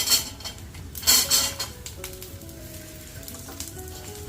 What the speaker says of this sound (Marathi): तर गॅस बंद करते आणि यामध्ये लसूण घालते